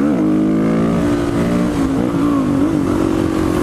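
A Suzuki DRZ supermoto engine revs in third gear, a loud, close, continuous drone with pitch wavering slightly up and down and no talk.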